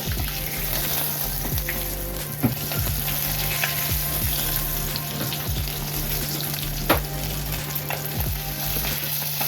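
Singi (stinging catfish) fries in oil in a wok with a steady, close sizzle and crackle, broken by a few sharp clinks of a utensil against the pan.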